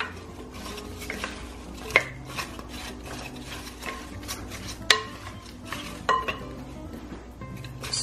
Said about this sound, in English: So just stir that lemon juice in there with the apples